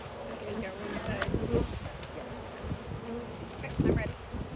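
Honeybees buzz steadily around an open hive while an escape board is fitted before harvest, a dense close drone with brief handling knocks and rustles.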